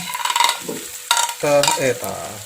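Tempeh pieces fry in hot vegetable oil in a pan, with a bubbling sizzle broken by scraping and stirring from a utensil and a few short clinks, all heard close up.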